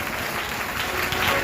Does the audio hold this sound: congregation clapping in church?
yes